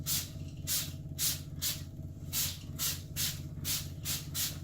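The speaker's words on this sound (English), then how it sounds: "And then spray all sides on the inside of the kennel." A handheld trigger sprayer mists disinfectant solution over the inside walls of a kennel, producing around a dozen short, soft hissing bursts in an irregular rhythm, fairly quiet and close with no voices.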